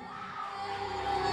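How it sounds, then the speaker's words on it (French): A crowd at a French children's singing competition cheers and shouts after an elimination round. The noise is loud, continuous and excited, with whoops and children's voices over a dense roar and no distinct clapping. "Je vous demande de les applaudir."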